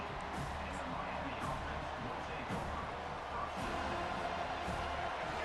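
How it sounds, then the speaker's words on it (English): A packed stadium crowd in the College Football 25 video game roars continuously in a dense, steady wash, with a commentator's voice running over it throughout. "listen to this crowd coming through"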